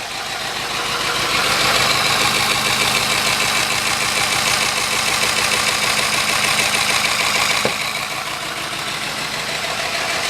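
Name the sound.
high torque DC motor running at high speed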